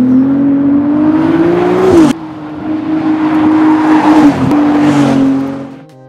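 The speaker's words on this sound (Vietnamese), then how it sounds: "họ cố gắng tạo ra âm thanh hấp dẫn từ động cơ V6 tăng áp" A Ferrari 296 GTB's turbocharged V6 pulls hard through the gears, its loud, steady engine note rising, dropping briefly at two quick upshifts, then easing off at the end, with no voices.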